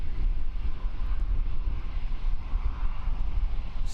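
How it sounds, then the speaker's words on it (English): An Emirates airliner at Christchurch Airport spools up its engines, a low rumbling roar with gusty wind buffeting the microphone, fairly distant and steady. "Spooling up the engines here"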